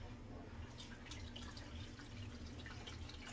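Water from a hose fed by an AQQA 265-800 GPH submersible aquarium pump drains an aquarium, giving a steady, faint trickle with dripping splashes, running continuously and unbroken throughout.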